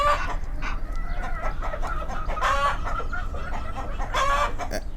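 Cartoon chickens cluck and squawk in a farmyard, several bursts of fowl calls over a soft background, close and moderately loud with no talking.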